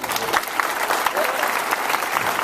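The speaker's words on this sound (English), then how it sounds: "Can we give them a round of applause?" Audience applauding a church worship team after a service, dense steady clapping filling the room with a crowd murmur under it.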